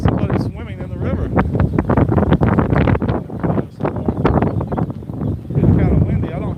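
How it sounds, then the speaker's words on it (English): Rough, gusty wind buffeting a microphone outdoors by a river in Phnom Penh, a constant low roar that swells and dips, with a person talking over it. "It's kind of windy."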